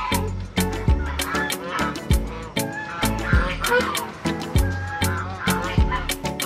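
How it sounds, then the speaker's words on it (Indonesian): Geese honking loudly and repeatedly at close range near a cafe in Batu, a rapid run of harsh nasal calls in an uneven rhythm. "Mana angsa?"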